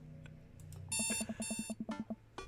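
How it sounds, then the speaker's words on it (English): An alarm clock rings in the video game Dream Daddy, sounding a steady run of about a dozen rapid, evenly spaced electronic beeps over soft background music, clear and close. "I jolt awake to the sound of my alarm."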